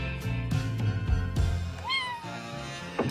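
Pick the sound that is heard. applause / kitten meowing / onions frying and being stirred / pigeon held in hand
kitten meowing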